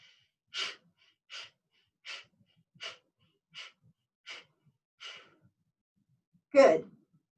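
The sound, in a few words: rhythmic breathing exercise, pumping breath with arm movements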